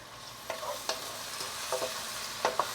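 Onion frying in a pan over high heat, with a steady low sizzle and several sharp clinks and scrapes of a spoon stirring against the metal, close by with no voices.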